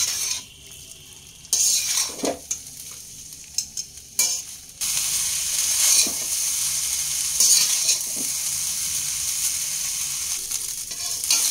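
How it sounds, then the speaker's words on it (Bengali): Fried rice sizzles in a pan over high flame while being stirred, with scraping strokes of a spatula at irregular intervals and a steady frying hiss, close and fairly loud. "অনবরত 4 থেকে 5 মিনিট এইভাবে হাই ফ্লেমে একটু নাড়াচাড়া করে নিয়ে ফ্রাই করে নিয়েছি"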